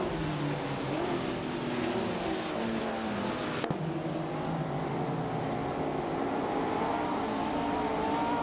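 1950s sports cars in a racing video game roar off the race start, engines droning and revving together in a dense continuous rumble, with one sharp click partway through and no talking.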